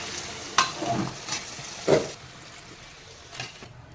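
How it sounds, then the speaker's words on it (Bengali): Water hits a sizzling spice mixture in a pan for a singi fish and cauliflower curry, with a couple of sharp splashy bursts over a steady frying hiss that fades slightly toward the end. "এবারে আমি ফাইনালি জলটা দিয়ে দেবো"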